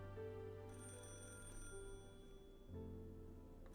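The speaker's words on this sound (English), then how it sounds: "I made a call to that number." A telephone rings on an outgoing call in the Higurashi video game, a steady electronic ring tone in repeated bursts with short pauses, fairly quiet and alone.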